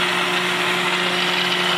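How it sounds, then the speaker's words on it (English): A seat and guide machine cutting a pocket in a Porsche 911 cylinder head, a steady high-pitched whirring machining whine with a constant tonal hum, close and continuous. "we're going to set up on a seat and guide machine, and we're going to cut this little pocket"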